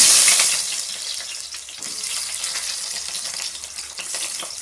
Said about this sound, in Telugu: ఫస్ట్ అయితే ఆయిల్ వేస్తున్నా.